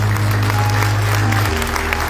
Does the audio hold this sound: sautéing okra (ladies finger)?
no